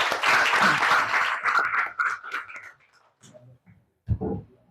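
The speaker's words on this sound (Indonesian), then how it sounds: "tepuk tangan dulu dong buat kita semua" A school assembly crowd claps and cheers loudly for about two seconds, then fades away, leaving a few scattered quieter sounds and a brief voice.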